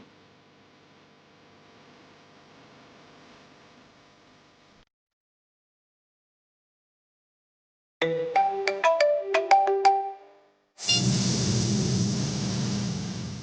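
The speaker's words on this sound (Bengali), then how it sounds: "কোনো পাগল ফোন করেছিল।" A mobile phone plays a melodic ringtone in a quick run of bright tones, followed by a burst of hissy static, after a stretch of faint hum and a moment of silence.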